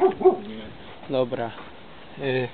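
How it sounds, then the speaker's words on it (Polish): A dog barks indoors nearby in a room where rabbits are kept, giving a few short, sharp barks in quick bursts mixed with a person speaking. "Sorry właśnie za psa, bo tutaj mi szczeka."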